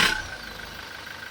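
A Toyota Innova engine turns over and catches, settling into a steady idle with a faint whine on top, heard close and alone with no talk.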